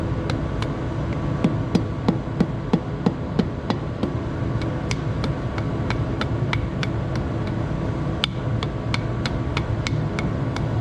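A hammer taps a piston down onto the crank of a Minneapolis Moline engine, many sharp metallic knocks in an irregular series over a constant low background hum.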